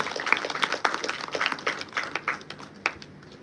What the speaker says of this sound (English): Let's have a huge round of applause for the release of the conference proceedings ITOH 25.